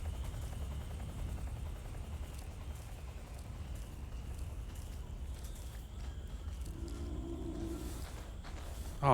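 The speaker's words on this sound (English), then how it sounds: "There's a helicopter." A helicopter in the Metal Gear Solid 3 video game drones steadily as a low, continuous rotor rumble, moderately distant and faint, with brief rustling near the end.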